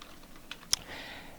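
Someone types on a computer keyboard, a few sparse, sharp key clicks close to the microphone, one clearly louder than the rest, with no talking.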